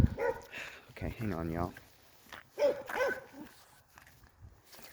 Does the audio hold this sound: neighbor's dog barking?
yes